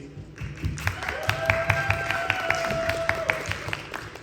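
Audience applause for a special guest at a saxophone quartet concert at a world saxophone congress, scattered claps and taps alongside a sustained tonal hum, moderately close and steady throughout.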